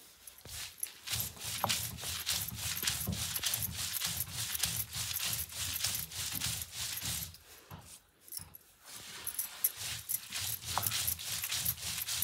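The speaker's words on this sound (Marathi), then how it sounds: "पाट्यावरचं वाटण काढायला थोडी मेहनत लागते." Chutney paste ground by hand on a traditional Konkani stone slab with a stone roller, repeated rhythmic scraping strokes close by over about twelve seconds, with a short pause partway.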